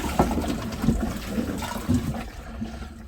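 Water pours and splashes into a sailboat toilet aboard a Santana 28, a steady watery rush with a few gurgles, close and moderately loud, tapering off near the end.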